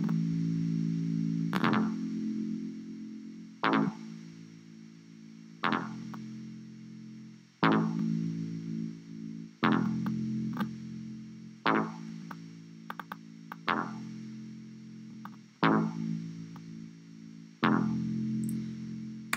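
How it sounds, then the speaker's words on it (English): Short repeating hip hop phrases built in Bandlab with a small amount of echo added, each loud hit trailing off into quieter repeats across the loop, with no voices present. "Tiny bit of echo then."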